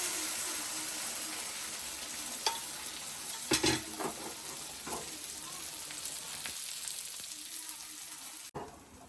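Steady sizzling of dosa batter on a hot griddle, with a few scrapes and taps of a utensil, no talking.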